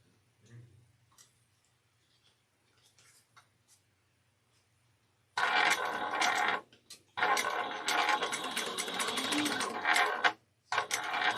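Sewing machine stitching down the sides of a bag with a three-eighths inch seam, bursts of steady close mechanical whirring in two long runs after a quiet start.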